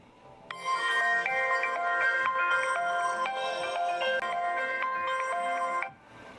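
A Tozo S6 smartwatch's phone locator sets a phone ringing with a loud, steady electronic ringtone melody that sounds alone for about five seconds before cutting off.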